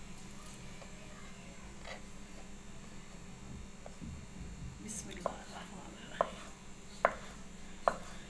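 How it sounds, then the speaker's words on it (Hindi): Salted boiled potatoes are cut into small pieces on a board for chaat. Faint soft noises come first, then four or five light knife taps near the end, with a quiet voice murmuring underneath. "अब इनको हम ये काट लेंगे बसमिल्लाम छोटा छोटा इनको काटेंगे इस तरह से"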